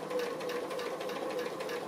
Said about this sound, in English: So I'm just stitching on the applique, but close to the edge.